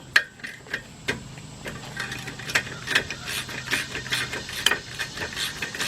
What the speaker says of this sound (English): Get our ratchet. Unscrew it, get the bottom one.